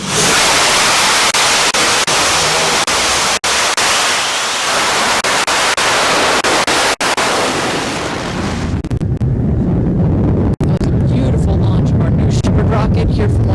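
A Blue Origin New Shepard rocket engine roars at launch as a loud, continuous broadband rush that shifts to a deeper rumble partway through, with brief dropouts and a voice talking over it.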